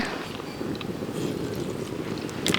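Strong wind buffets the microphone with a constant low rumble and roar, with no voices.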